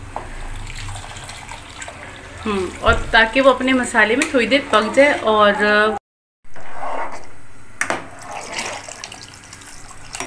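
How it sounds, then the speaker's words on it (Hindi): Water is poured into fried spice masala in a cooking pot, a rushing splash coming after a stretch of talking, with quieter kitchen noise and faint talking following. "मसाला हमने भून लिया और उसके में पानी ऐड कर देंगे ताकि इसको मिक्स करने में आसानी हो"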